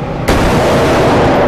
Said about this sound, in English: Look at all these bullets you're shooting.